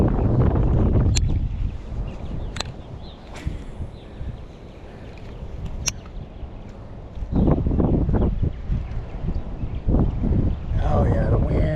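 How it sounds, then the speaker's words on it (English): Strong wind buffets the microphone during a fishing trip, a loud rumbling roar that surges and eases in gusts, with faint knocks and splashes underneath. "Oh yeah, the wind is terrible."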